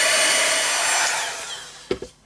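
A hair dryer blows on paint on a craft Halloween gravestone, a steady loud whoosh that tapers off and cuts out, followed by a couple of quick knocks.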